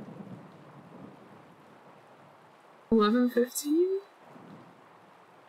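Steady rain and low thunder rumble in The Legend of Zelda: Tears of the Kingdom, a constant wash under a brief burst of someone talking near the middle.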